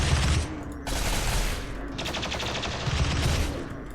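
Colonists firing guns in the video game Rimworld, a dense, continuous crackle of rapid gunfire in overlapping bursts, loud and close throughout with no talk.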